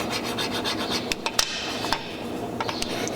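A blade scrapes old glue off a car's rear view mirror mount in repeated short rasping strokes, with a few sharp scratchy clicks standing out.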